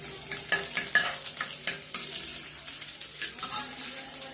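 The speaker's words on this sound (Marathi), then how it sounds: "आता गरम झालेलं आहे तेल त्याच्यामध्ये लसण आणि अद्रकची थोडीशी पेस्ट टाकते मी आणि थोड्या मिरच्या घेतलेल्या आहे त्या मिरच्या टाकू छान ते आपण परतून घेऊया" Garlic-ginger paste and green chillies sizzle in hot oil in a pan, with repeated scraping stirs giving an uneven, close rhythm of crackles and clicks.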